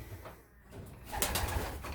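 Pigeons coo at a loft, several birds present, with soft low calls and some rustling that grows louder toward the end, heard alone and close.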